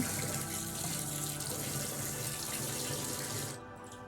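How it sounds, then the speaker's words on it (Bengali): Rice being washed by hand in a sink under a steady running tap in a home kitchen, a continuous close splashing rush of water that thins out near the end. "এখানে আমি চালটা ধুয়ে নিচ্ছি"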